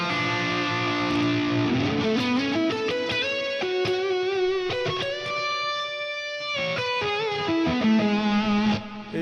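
Heavily processed electric guitar playing sustained, shifting chords with a shimmering pitch-shifted layer, washed in reverb and echoing delay trails.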